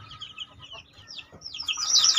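Young chicks in a simple coop peep and chirp, a busy overlapping chorus of high chirps that grows louder and denser toward the end.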